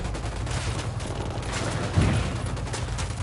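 Sustained rattling gunfire from Ghost Recon Wildlands, a dense fusillade of overlapping shots with a heavier blast midway, loud and continuous with no pauses.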